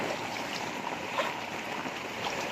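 Floodwater flows during a storm, a steady wash of rushing, lapping water heard close and at moderate level, with occasional faint splashes and no clear talking.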